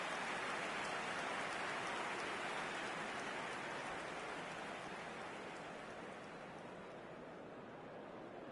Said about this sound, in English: The rain is tumbling down here by the bucketful